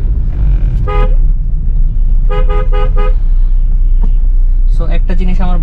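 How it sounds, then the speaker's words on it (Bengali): A newly fitted, loud vehicle horn, replaced after the old one failed on a trip from Sylhet, honks in bursts: a short toot, then a run of rapid toots, then another quick series over a steady engine and road rumble. "আগের থেকে হচ্ছে যথেষ্ট লাউড এবং হর্নটা যথেষ্ট ভালো"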